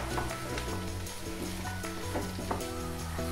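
Cabbage being stir-fried for restaurant-style veg chowmein, with a steady close sizzle and scraping stirs throughout, partly masked by background music.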